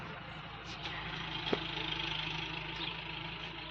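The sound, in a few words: tractor engine passing by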